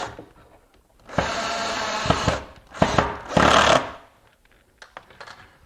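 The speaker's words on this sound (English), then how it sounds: "I'll go ahead and install these screws." A power drill drives screws into wood while a miter saw cabinet wing is installed. Three loud whirring bursts of about a second each are separated by brief pauses, with small clicks and handling noises before and after.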